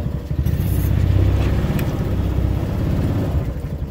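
A boat motor runs steadily on a river at flood stage, a close mid-pitched engine drone with a rapid pulsing rhythm and some wind noise, no talking.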